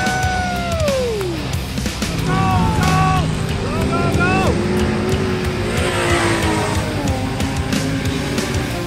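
A vehicle stuck in beach sand in Baja, its engine revving and whining in rising and falling surges, loud and close throughout, mixed with shouting voices and outdoor bustle.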